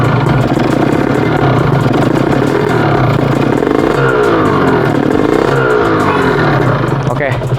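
A 2014 Kawasaki Ninja SS motorcycle engine runs close by with a steady, dry, rattly drone and slight swells in revs, while someone talks over it throughout.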